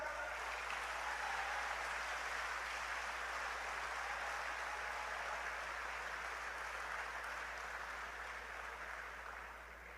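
Long, dense applause from a large audience at a university graduation speech, a steady distant wash of clapping that holds evenly for ten seconds, then softens slightly at the end.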